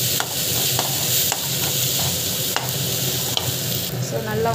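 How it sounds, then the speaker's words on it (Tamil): Onions sauté loudly with chili, turmeric and coriander powders for a cauliflower fry, a dense, continuous sizzle marked by repeated scraping stirs of the spoon against the pan. "ஸோ அது போட்டுட்டு நல்லா வந்து வதக்கிட்டுக்கோங்க."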